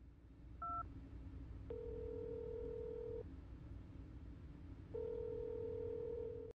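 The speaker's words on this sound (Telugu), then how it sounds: "అంకుల్ అదే నెంబర్కి మళ్ళీ కాల్ చేయండి." A telephone number is dialed: a couple of quick keypad tones, then a steady dial tone that stops and starts again later, quiet and close, with no talking.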